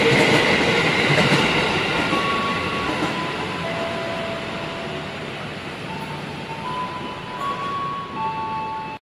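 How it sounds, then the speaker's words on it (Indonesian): A train passes close by, a loud sustained roar with rumbling wheel noise and faint squealing tones that slowly eases before cutting off, with no talking. "Wow, ada kereta lewat."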